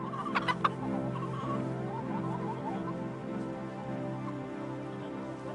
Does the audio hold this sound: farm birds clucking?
yes